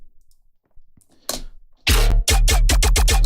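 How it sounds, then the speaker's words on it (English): Bass loop, pattern 02, kicks in after a few quiet clicks: loud, punchy low notes pulse in a quick repeating rhythm with sliding pitch, alone. "we're going to load up a bass loop in this case"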